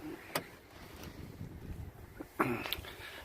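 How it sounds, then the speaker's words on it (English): A door on a 2019 International HV507 dump truck chassis opens and then shuts, heard as two fairly faint, brief clunks about two seconds apart over low background noise. "you listen to this door open and close. Has a car quality sound."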